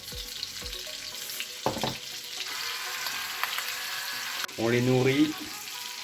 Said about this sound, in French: On va juste les saisir. Voilà, ça chante encore.